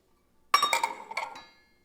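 A spoon clinks against a glass jar while sugar is stirred into hot tea, a single short bright ringing burst of a few close taps that decays quickly into silence.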